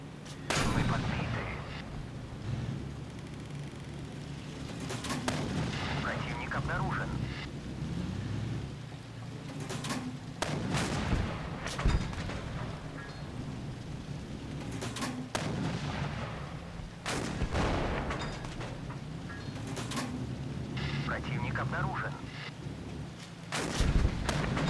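Video game gunfire and artillery-like blasts come in repeated loud bursts over a rumbling background, with sharp reports spaced every few seconds and some talk mixed in.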